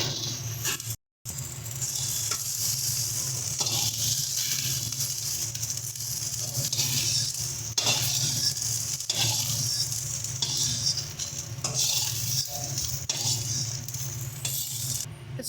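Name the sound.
frying okra in oil, stirring in pan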